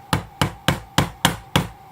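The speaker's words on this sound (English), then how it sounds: "help yourself with the hammer" A hammer taps a 3D printed Scorponok model part six times at an even, unhurried pace, each knock sharp, close and fairly loud, with no voices.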